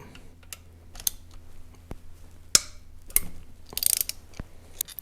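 Ratchet clicking on a 1/4 inch Allen socket while turning exhaust bracket bolts on a 2015 Harley-Davidson Street Glide, sparse sharp clicks and metallic taps, close and fairly quiet.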